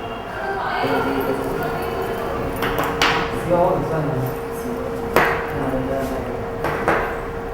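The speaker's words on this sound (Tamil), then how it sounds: "எல்லா கம்பியும் 2 2 கட் பண்ணிக்கோங்க." Craft wires for flower making snipped with cutters, giving a few sharp metallic clicks spaced apart under someone talking steadily nearby.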